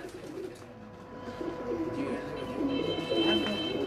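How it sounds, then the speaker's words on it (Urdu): Pigeons coo in soft, repeated throaty rolls close by on a rooftop, with a steady outdoor hum and a faint whistle-like tone behind them. "ماشاءاللہ سے اچھے کبوتر ہیں جی ان کے پاس"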